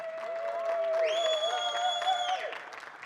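Applause from an audience at a SQL Server performance talk, a steady wash of clapping lasting a few seconds with a sustained ringing tone over it that fades near the end.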